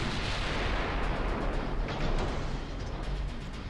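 Battleship guns firing in the naval video game Shipyard Champions, a dense continuous roar of heavy cannon blasts and booms layered over one another, loud and sustained throughout.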